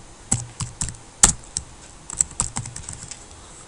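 Computer keyboard typing to add text to a presentation slide. Irregular key clicks come in short bursts with one sharper tap, close and clear, with no voice over them.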